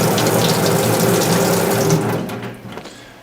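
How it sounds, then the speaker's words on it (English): Tap water runs steadily through an instant water heater in a small Japanese apartment, a loud close rushing hiss that cuts off near the end. "this is an instant water heater. You just press this button and the water starts heating instantly."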